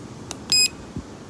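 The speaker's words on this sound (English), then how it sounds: "So I'm going to start the timer." A short digital timer beep sounds once, loud and clear over quiet outdoor background noise, set going at the start of a windshield crack repair kit test.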